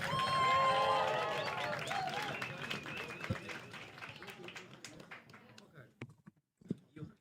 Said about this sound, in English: Once again, stamp some feet. Clap some hands.